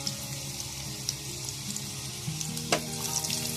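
Onion added to hot oil with garlic in a pan for homemade pizza sauce, a soft steady sizzle with light stirring and scraping clicks, fairly quiet and close, no talking.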